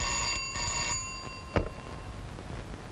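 An office telephone rings with a steady electronic bell tone that fades out, followed by a sharp click as the receiver is picked up, leaving quiet room hiss.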